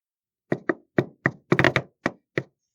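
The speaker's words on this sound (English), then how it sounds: "On the door of an apparently abandoned building uptown, Falk performs the secret knock" Secret knock on the door of an abandoned-looking building, eight sharp raps in a distinct uneven rhythm, including a quick burst in the middle, crisp and close in near silence.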